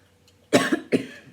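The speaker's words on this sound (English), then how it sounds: "it's not a dry cough" Two close, loud coughs in quick succession, harsh and throaty, after a brief quiet moment.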